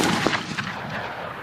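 A 3-inch shotgun shell fires from a Beretta A400 semi-automatic shotgun outdoors, a single loud sharp blast that rolls off into a fading echo.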